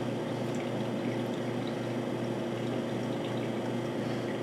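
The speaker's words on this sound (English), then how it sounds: "I'm just going to do this until all of the water is drained from my ramen noodles" Water drains off cooked ramen noodles in a continuous, even stream of pouring and splashing that holds at a steady moderate level throughout, with no speech.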